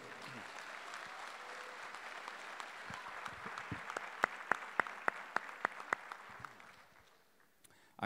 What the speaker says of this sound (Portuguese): Uma salva de palmas ao Rodrigo Garcia.